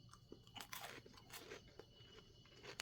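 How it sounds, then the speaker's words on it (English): Crunching of a chocolate biscuit snack with a chocolate paste filling, close and fairly quiet: a series of irregular crisp bites and chewing crunches over about three seconds, with no talk. "Crunchy, as you can probably hear."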